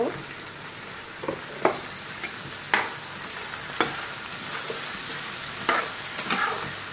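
Potatoes frying at medium heat in a pan with salt and turmeric, a continuous soft sizzle punctuated by several sharp scrapes and knocks of stirring, with no talking.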